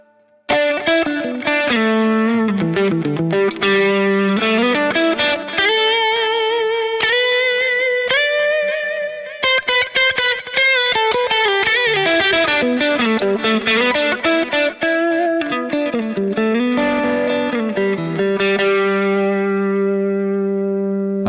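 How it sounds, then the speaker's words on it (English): Kiesel Osiris electric guitar through an EL34 tube amp model with gritty distortion, playing sustained notes and bends, thick and saturated with a touch of chorus-like shimmer. "It's a great tube distortion kind of a thing."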